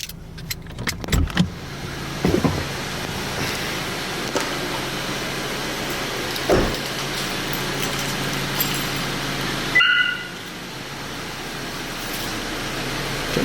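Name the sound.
car engine running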